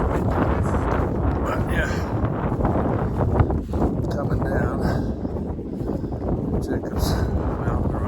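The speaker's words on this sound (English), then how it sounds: "Whew, windy. I don't know if you can hear the wind or not." Strong gusts buffet the microphone on a mountain stretch of the Appalachian Trail, a continuous loud roar under a man's brief speech.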